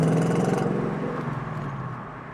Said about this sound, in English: that was my demonstration on rev matching